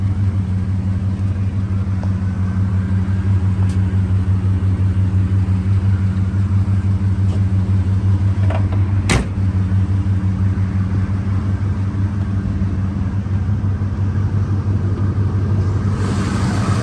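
An all-original 5.0 V8 in a 1988 Chevrolet Monte Carlo SS idles smoothly with a steady low rumble, a brief sharp click near the middle and no voices.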